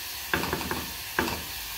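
Onions frying in a pan, a steady sizzle with two bursts of spoon-stirring scrapes, close and fairly quiet, no talking.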